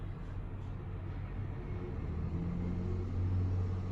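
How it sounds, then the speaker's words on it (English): A large truck rumbles past outside an apartment, a steady low drone that swells slightly toward the end, heard at a distance through the walls without any voices. "Hey look guys, another big truck."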